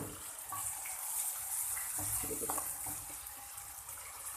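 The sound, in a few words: water poured into cooking pot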